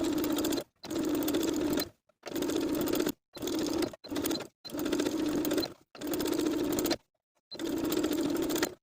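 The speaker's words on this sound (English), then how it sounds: "Now we're going to understitch as we did for the sleeve facings" Sewing machine understitching a neckline facing on a boxy tee shirt, a loud close motor hum in several steady bursts of about one second each, separated by short silences, with no talk.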